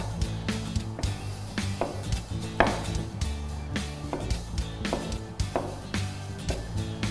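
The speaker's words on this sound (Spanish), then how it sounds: "Esto lo cortamos en cubitos, como si fuera nuestra boloñesa o una carne picada." A knife chops food into small cubes on a board, with rapid, steady close-up strikes under loud background music.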